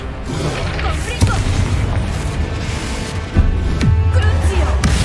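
Confringo fire-blast spells cast in Hogwarts Legacy, several sharp booming explosions landing amid continuous spell combat noise, fairly loud and close, with a voice speaking between blasts.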